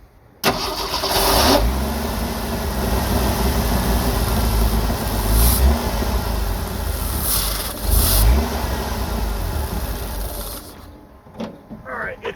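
An old Jeep CJ-7 engine with Holley Pro-Jection throttle-body fuel injection cranks, catches and revs unevenly, struggling to settle into an idle, loud and close with a few sharp surges before it cuts out.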